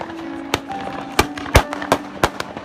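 Fireworks burst at an outdoor football tournament in Pakistan, about six sharp cracks and bangs spaced irregularly over a steady crowd-like background rumble.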